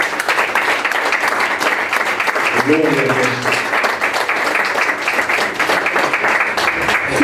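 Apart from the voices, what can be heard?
church congregation applause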